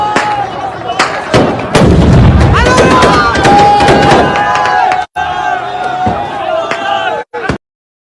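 An RPG-7 fires at the U.S. Embassy in Baghdad's Green Zone, loud sharp blasts and cracks in a rapid irregular burst, with crowd noise and shouting voices underneath, ending in a couple of abrupt final bangs.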